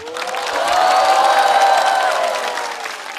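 A live stand-up comedy audience claps and cheers loudly at close range, with whoops above a steady wash of applause that rises and then eases over a few seconds.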